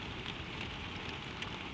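Soft spring rain pattering on slate roof tiles, a steady, even hiss of fine drops with no voices, gentle and continuous throughout.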